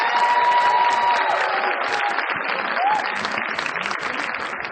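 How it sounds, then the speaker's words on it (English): An audience at a district arts festival applauds the 6th grade band, dense sustained clapping with a few cheers, while faint instrument tones and murmuring voices sound underneath. "Give them a big round of applause"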